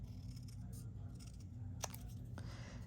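Scissors cut a Halloween paper printable at a crafting table, a faint, close snipping with a couple of sharper snips standing out over a steady low room hum.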